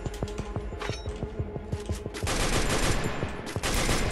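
Rapid gunfire in the mobile battle royale game Free Fire, a fast rhythmic burst of evenly spaced shots that gives way to denser, louder sustained automatic fire, close and intense.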